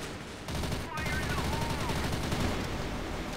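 A grenade blast in the online shooter CrossFire, a loud burst followed by a sustained rumbling roar and crackle of in-game gunfire, close and dense, with a voice briefly in the background.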